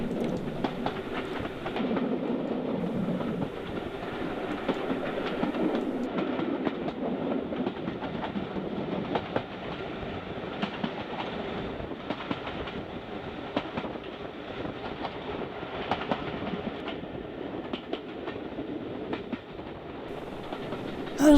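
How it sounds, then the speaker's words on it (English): A heritage train rolls at a leisurely pace along the Great Central Railway near Swithland Reservoir, with a continuous low rumble and a steady clickety-clack of wheels on rail joints that lasts the whole stretch, alone and fairly close. "As the train moves along at a leisurely pace"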